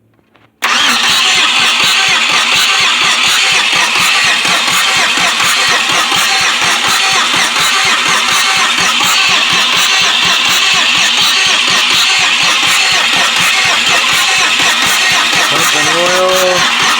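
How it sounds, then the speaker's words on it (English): A 2006 Pontiac Grand Prix engine, rockers freshly torqued with the top end swapped, is spun over by the starter motor in a long steady rapid chugging crank, loud and close, with a brief whine at the end. "I'm just spinning it over using the starter."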